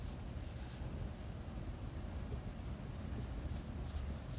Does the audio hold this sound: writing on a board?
yes